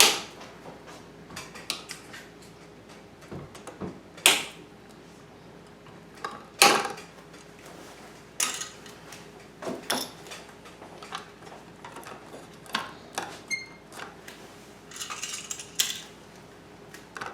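Electrical wires are snipped at a disconnected light switch box: sharp, irregular metallic clicks and snaps, close and fairly loud, spread over a quiet background with occasional handling rattles.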